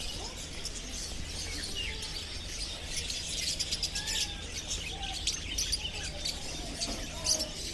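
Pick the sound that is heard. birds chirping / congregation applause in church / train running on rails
birds chirping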